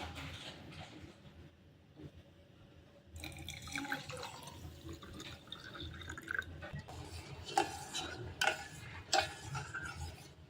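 Sugar water being poured into a glass and stirred while making shankarpali pastry dough, with a gentle liquid trickle followed by light dripping and clinking ticks, close and fairly quiet, with no talking.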